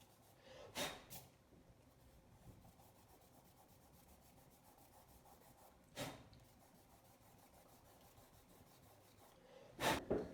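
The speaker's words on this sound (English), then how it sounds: "Make sure you do this initial part in an HB pencil." An HB pencil sketches lightly on paper, giving a faint, steady soft scratching of strokes, broken by three brief louder rubbing bursts.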